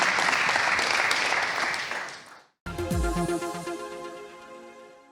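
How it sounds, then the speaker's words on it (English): Audience applause at a product launch event, dense steady clapping for about two and a half seconds before cutting off abruptly, followed by a different musical sound. "I think a round of applause."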